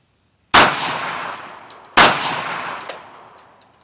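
Two sharp handgun shots from a .45 ACP, about a second and a half apart, each loud and close with a ringing metallic tail and faint clinks afterward.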